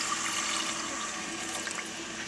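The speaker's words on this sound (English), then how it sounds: "I'm going to go ahead and pour this milk right in there." Milk pours steadily into a pan for cheese sauce, giving a continuous close liquid rush with no talking.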